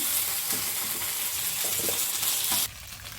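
Chicken pieces shallow frying in oil in a pan for a tapioca biryani give a loud, close, continuous sizzle with faint stirring scrapes. The hiss changes abruptly near the end.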